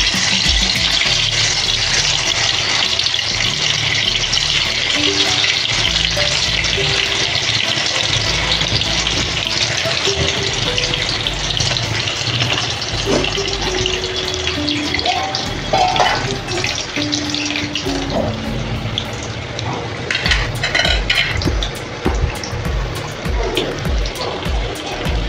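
Colocasia-leaf rolls (aalu vadi) dropped into hot oil give a steady, loud broadband frying hiss that runs unbroken throughout, with occasional utensil taps.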